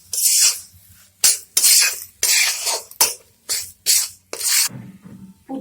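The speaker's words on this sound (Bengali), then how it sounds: "ভালো করে মিশিয়ে দেব।" Egg chop filling with turmeric, chili powder and salt is stirred and mixed in a pan in a kitchen. Several short, scraping rasps come in bursts with brief pauses between them, close and fairly loud, with no talking.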